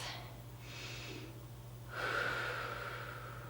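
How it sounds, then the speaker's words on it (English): Slow, deep breathing during a hip stretch for hip bursitis, with soft, drawn-out inhales and exhales that are fairly faint and close, and no talking. "Keep taking those deep breaths."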